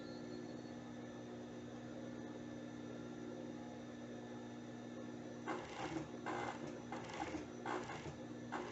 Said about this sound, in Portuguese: venho costurando sem esticar